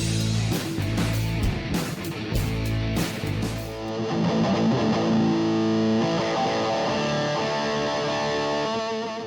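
Electric guitar played through a Park's Custom Pedals Ninurta Overdrive distortion pedal: heavily distorted chords with a choppy, stabbing rhythm at first, then sustained ringing, gritty chords that hang on, loud and close with no voices.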